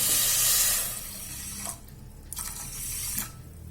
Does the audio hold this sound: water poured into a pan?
yes